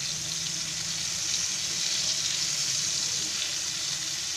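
Bombay duck fish frying in hot oil on a gas stove, a steady loud sizzle with bright crackling hiss that continues without a break, no voices.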